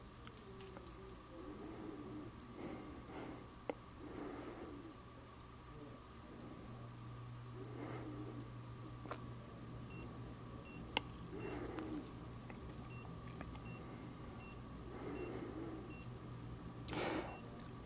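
Rapid groups of high electronic beeps from a Breitling Aerospace quartz watch's minute repeater repeat in clusters with short pauses, fairly faint, over a low steady background hum.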